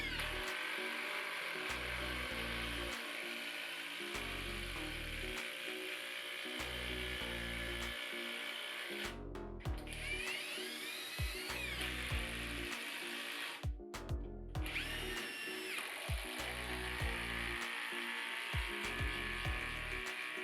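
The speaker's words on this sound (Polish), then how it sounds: "urządzenie się nie zatrzymywało, pracowało bardzo szybko i pozwoliło wkręcić nawet wkręty ciesielskie 10×300" Parkside Performance PDSSAP 20 Li cordless impact driver sinking 10x300 carpentry screws, a close, continuous rapid hammering whir with rhythmic pulsing and two brief stops partway through, no talking.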